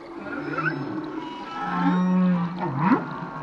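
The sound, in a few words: humpback whale song recorded in Mohéli marine park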